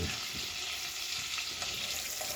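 Cod fillet frying in butter in a pan gives a steady, close sizzle with a dense bright hiss and small crackles, continuous and alone.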